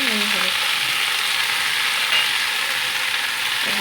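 Red amaranth greens fry in hot oil with salt and turmeric, making a loud, steady sizzle that holds evenly from start to finish.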